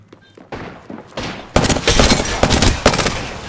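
Dense automatic gunfire and rapid shots from a Call of Duty Warzone match on Caldera, starting with sparse bursts and then swelling into loud, sustained fusillades with sharp peaks, close and unbroken.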